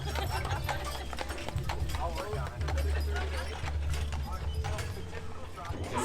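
Draft horses' hooves clip-clop steadily on pavement while pulling a tour carriage, a continuous rhythmic clatter mixed with rattling carriage mechanisms and background voices.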